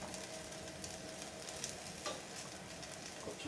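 Omelette egg mixture sizzling on a Masterbuilt 1050 gravity fed grill, a steady close crackling hiss that holds unbroken for a few seconds with no talk.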